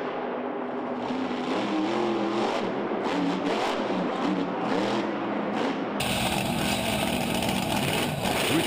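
The Max D monster truck's engine roars and revs loudly and continuously through a 2011 freestyle run, with steady, close, heavy engine noise and no talk over it.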